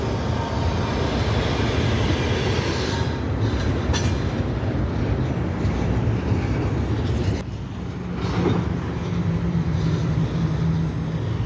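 A Norfolk Southern freight train rolls past on the Delair Bridge, a loud, continuous rumble of wheels and cars that barely changes, with faint squeals now and then.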